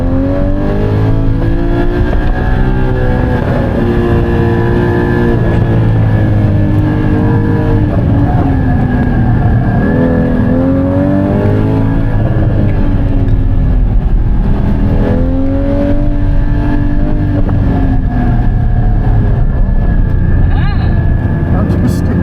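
A car engine revs loudly and continuously while drifting sideways through a driving class, its pitch rising and falling as throttle comes on and off, with people talking over it.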